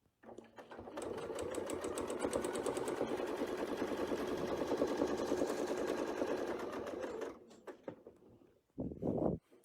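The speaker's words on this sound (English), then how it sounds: "I'm going to sew around to the next crosshair line right there." A sewing machine runs steadily while stitching along a quilt's curved crosshair line, a close, fast mechanical whir that stops after several seconds, followed by a few short clicks and a brief burst of running.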